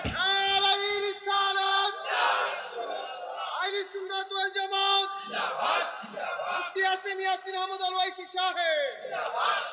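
A crowd at a religious sermon gathering loudly shouts takbir: three long, forceful unison bursts of many voices, separated by brief pauses, near and strong.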